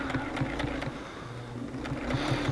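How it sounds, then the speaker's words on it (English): An electric sewing machine runs at a rhythmic pace, its needle stitching in quick repeated bursts with short pauses, close and steady with a low motor hum underneath. "Still strange using an electric sewing machine"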